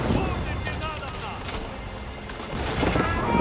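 Boats blowing up in Age of Empires IV, a dense rumble of overlapping explosions and crackling blasts that carries loudly through the whole stretch, swelling again toward the end.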